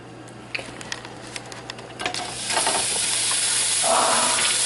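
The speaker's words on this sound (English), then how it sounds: "Listen to the sizzle." Chopped hot and sweet sausage meat, removed from its casing, sizzles in a pot of olive oil over a medium-high flame, the hiss swelling into a loud, steady crackle after a few soft clicks and stirs.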